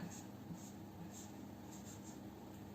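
Someone writes a chemical formula by hand, a faint, steady scratching of strokes against a low room hum, with no voices.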